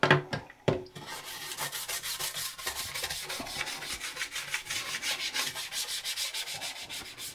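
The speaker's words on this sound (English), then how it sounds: "Some hot water and some covers and some elbow grease. We'll give these a scrub" Plastic Commodore 64 computer case covers being scrubbed by hand in hot water, a steady rhythmic rubbing and brushing that continues throughout after a few sharp knocks at the start, close and moderately loud with no talking.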